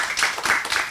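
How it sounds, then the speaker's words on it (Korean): A seated audience at a panel discussion on personal data consent claps briefly and moderately loud, a short ragged burst of hands lasting about a second with no voices over it. "박수 부탁드립니다"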